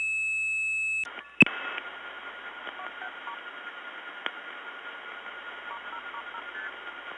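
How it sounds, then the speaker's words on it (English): Steady multi-frequency key set tones leak in as crosstalk from a telephone operator keying a number on a 1979 step-by-step tandem switching line, then give way to a click and a low hiss with faint clicks. "That crosstalk was from an operator keying a phone number using an MF key set."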